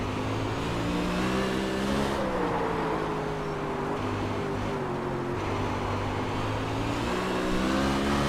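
A sprint car engine roars at full throttle on the Lanier night track in iRacing, a loud, steady, high-revving drone with a slight pitch shift midway and no voices.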